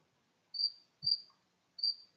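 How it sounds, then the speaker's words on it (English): A cricket chirps in three short, high-pitched bursts spaced about half a second apart, faint and alone in an otherwise quiet background, with a soft low thump between the first two. "you can probably hear the cricket."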